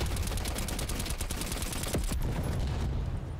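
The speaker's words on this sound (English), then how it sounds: "Get destroyed by a silencer." Suppressed gunfire in Call of Duty: Cold War sniping gameplay, a dense run of muffled shots and impacts over a constant loud game soundscape, with one sharper report near the two-second mark.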